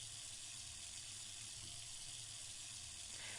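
Water runs steadily as it is added to dough in the baking game Breezy Bakes, a faint, continuous faucet-like pour with a soft hiss throughout.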